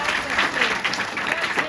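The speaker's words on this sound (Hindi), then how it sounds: "सब ताली बजाओ अपने लिए।" Schoolchildren clapping together for themselves, a short burst of dense, lively applause with voices mixed into it.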